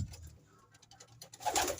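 A pigeon or dove coos softly in a breeding loft, a brief low call rising to a louder burst near the end, heard alone without talk.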